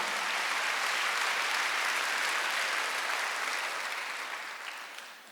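Steady applause from a church congregation at a Wednesday worship service, dense and continuous for several seconds before tapering off at the end, with no voices over it.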